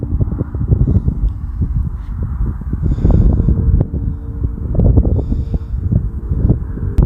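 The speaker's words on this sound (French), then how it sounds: "il y a un peu moins de vent là" Strong wind buffets an outdoor drone flight in gusty rumbling waves, loud and steady throughout, with a faint thin motor whine sometimes showing through. No one talks.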